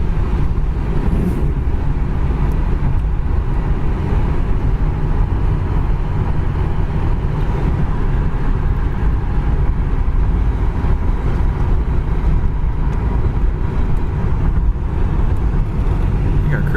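A 1980 Pontiac Formula cruises at highway speed, a loud steady engine drone with road and wind roar that holds constant throughout.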